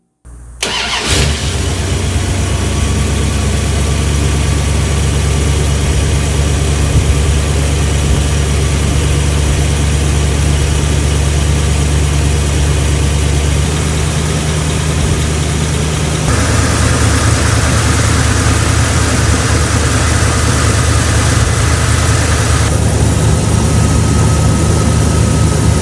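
1970 Plymouth Custom Suburban's 318 V8 cranks, fires up and settles into a loud, steady idle with a low rumble that shifts slightly in pitch partway through, close by with no talking.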